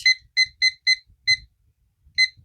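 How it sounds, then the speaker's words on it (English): Kitchen timer being set for ten minutes during a homemade coaster experiment, giving a series of six short, bright electronic beeps, the first four in quick succession and the last two spaced apart, clear and close with nothing else over them. "So I'm going to set a timer for 10 minutes"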